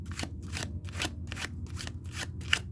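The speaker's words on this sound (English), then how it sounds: "Yeah, this shuffles beautifully." A Tarot of the Divine deck is riffled repeatedly in quick, even bursts, each shuffle a crisp papery flutter, close and fairly quiet, with no talking over it.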